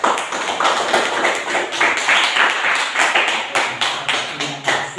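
A classroom of students claps for their classmates in a steady, rhythmic burst of close, sharp hand claps that continues evenly throughout.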